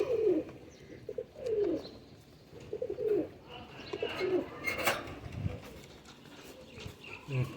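Pigeons crowded in a small cage coo repeatedly in close, throaty phrases, with scattered chirps and flapping scuffles between them, near and fairly clear.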